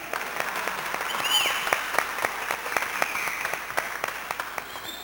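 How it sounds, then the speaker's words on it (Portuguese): Applause from an audience at a community meeting about a water-focused civic front, a steady mix of scattered claps at moderate distance, fairly even throughout with no one speaking over it. "Uma salva de palmas para a Lourdes, então."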